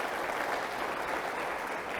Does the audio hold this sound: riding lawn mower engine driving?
no